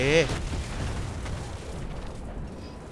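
A tank explodes in War Thunder: a heavy, loud boom bursts at the very start, then fades into a low rumbling tail under a steady battle din.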